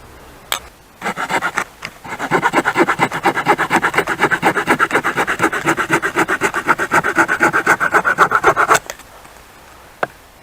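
A RUIKE multitool's folding saw blade cuts through a wooden stick about 2.5–3 cm thick, giving a steady run of loud, rhythmic rasping back-and-forth strokes, close up and uninterrupted, with a few sharp knocks before and after.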